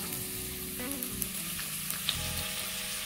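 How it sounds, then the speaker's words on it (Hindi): Chopped onions sizzle and fry in hot ordinary cooking oil for aloo bharta, a steady close crackle with a few light stirring knocks and clinks, no voices. "जैसे ही तेल गरम होने लगे हम इसमें डालेंगे प्याज"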